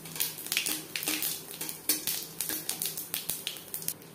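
Whole cumin seeds and broken dried red chillies frying in hot refined oil, a soft crackling sizzle stirred in a pan, with repeated light clinks of a spatula against metal, close and fairly quiet.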